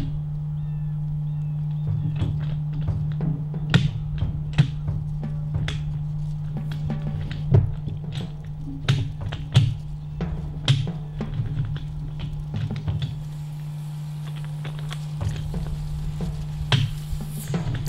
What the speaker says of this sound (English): that noise you're hearing in the background is me rattling up against the tree with one hand